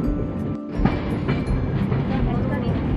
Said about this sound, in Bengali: ট্রেন আমাদের একদম রাইট টাইমে ঢোকাচ্ছে।